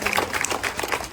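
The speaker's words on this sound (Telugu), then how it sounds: "క్లాప్స్" Brief burst of clapping from a crowd at a school Sankranthi celebration, a short patter of hands with some voices mixed in.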